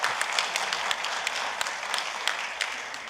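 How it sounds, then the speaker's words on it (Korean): An audience at a forum gives a brief, dense burst of applause to welcome a university president to the stage, with steady clapping throughout. "예, 박수로 맞아주십시오."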